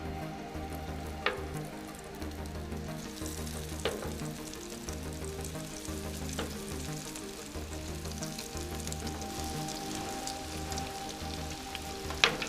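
Ladyfish fry in hot oil with a steady, soft sizzle that crackles without a break, and a few light clinks rise above it now and then.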